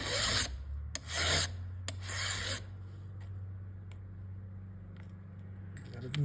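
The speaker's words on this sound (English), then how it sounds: "I gotta pay attention to where I'm filing in the video here" Hand file rasping across chainsaw teeth in several bursts at the start, loud and close, followed by quieter scraping strokes over a steady low background hum.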